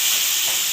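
Dry cabbage curry frying in a pan gives off a steady, loud sizzling hiss that holds even through the brief moment with no other sound.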